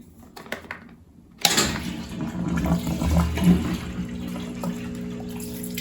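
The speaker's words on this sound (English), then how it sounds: "And we have water flowing again." A pump kicks on abruptly and pushes water through a PC water cooling loop, giving a steady rushing, gurgling flow with a low hum underneath after a few quiet clicks.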